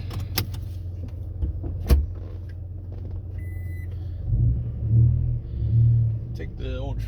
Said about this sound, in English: Take the old truck out for a little cruise here.